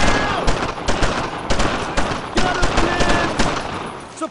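Rapid machine-gun bursts and scattered gunshots crackle continuously through a Brothers in Arms: Road to Hill 30 firefight, loud and close, with a voice shouting briefly amid the fire.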